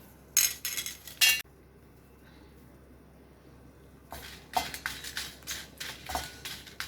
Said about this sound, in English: Now I am going to dry roast the red chilies.